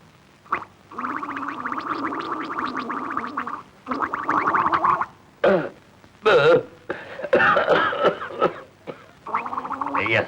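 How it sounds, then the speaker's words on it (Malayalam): A man coughs and clears his throat in a series of rough, gargling bursts broken by short pauses, close and fairly loud, in a 1973 Malayalam film scene. "അതുകൊണ്ടാ ചുമക്കുന്നത്."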